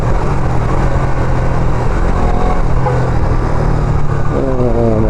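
Busy road traffic with car and motorcycle engines passing close by, a steady loud rumble throughout and one engine revving up near the end.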